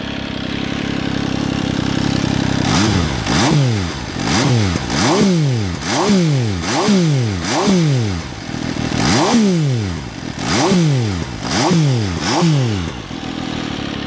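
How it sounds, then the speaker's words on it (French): An MV Agusta Dragster 800RR motorcycle idles loudly close by, then pulls away with repeated sharp revs and gear-by-gear acceleration sweeps that rise and fall in a steady rhythm. "Je vais vous faire un petit démarrage, un autre petit démarrage."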